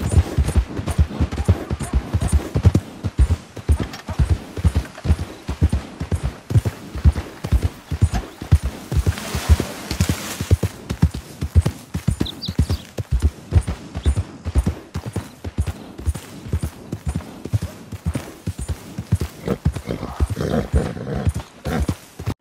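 A horse in the Red Dead Redemption video game trots with a steady clip-clop of hooves that continues throughout, loud and close, with occasional snorts or whinnies mixed in.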